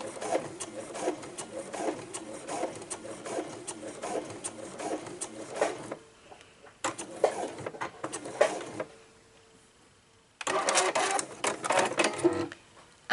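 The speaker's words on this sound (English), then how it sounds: "just continue sewing till the end" A sewing machine stitches fabric for a raw-edge garment in rapid mechanical bursts, running for several seconds, pausing briefly, then starting again, close and moderately quiet.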